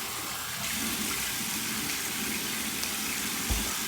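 Water splashing at a bathroom sink during a head shave, a steady wash of running, spattering water lasting the whole stretch, close and fairly loud, with a brief thump near the end.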